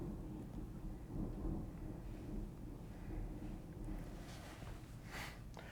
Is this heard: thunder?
yes